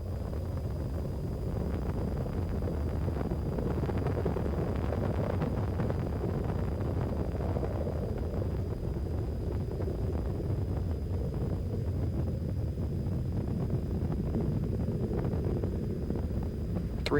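Space Shuttle Discovery's engines roar during launch ascent as they throttle down to 67% thrust through maximum aerodynamic pressure, heard as a continuous, distant, wind-like rumble that holds steady throughout.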